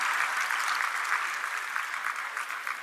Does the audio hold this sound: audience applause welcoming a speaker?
yes